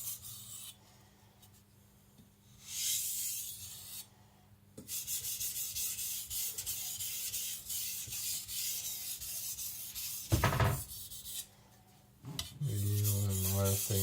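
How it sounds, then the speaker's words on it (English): A Tojiro Shirogami nakiri knife is stropped to remove the burr after sharpening, giving repeated long rubbing strokes in bursts of several seconds separated by short pauses, close and fairly quiet. "just gonna strop the burr away"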